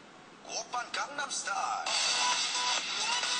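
A song plays as a phone ringtone, a bright, compressed pop tune with vocals that sounds thin and slightly distant, as if from a small phone speaker.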